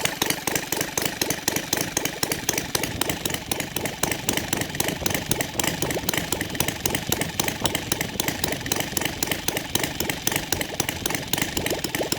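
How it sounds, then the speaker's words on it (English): A Saito 450 model aircraft engine converted to gasoline with CH ignition idles steadily and loudly nearby after warming up, a rapid buzzing putter that stays even throughout, with no voices. "See how beautiful it idles there after it warms up."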